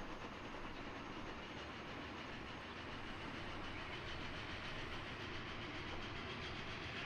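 Train riding along the rails in Transport Fever 2, a continuous steady rumble with clickety-clack from the wagons and engine noise, constant and loud throughout with no talk.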